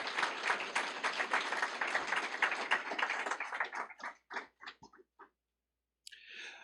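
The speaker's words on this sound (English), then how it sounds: "Please give them a round of applause." Applause at a school CTE signing day event honoring guests, dense clapping that thins into a few scattered claps and stops, followed by a brief new noise.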